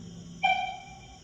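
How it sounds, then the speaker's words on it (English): A short, bright LGB 2080 D model locomotive whistle from a Zimo sound decoder, with a steady harmonic tone, lasting under a second over a low background hum. "F4 is a short whistle."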